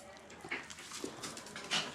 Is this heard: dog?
yes